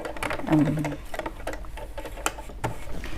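A Bernette sewing machine fitted with a rolled hem foot gives off light, quick mechanical ticking and clicking, close by and fairly quiet, with a voice speaking briefly over it.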